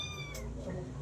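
A pet cat gives a short meow over steady low background hum, close and fairly clear, with voices murmuring faintly nearby.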